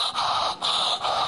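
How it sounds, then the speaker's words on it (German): Heavy snorting and breathing in the background, three loud rhythmic puffs with short pauses between them and no talk over them. "Hinten hörst du so ein Schnaufen."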